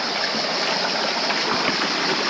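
A jungle stream where buffaloes roam flows with a steady, close rushing and babbling of water, continuous with no voices.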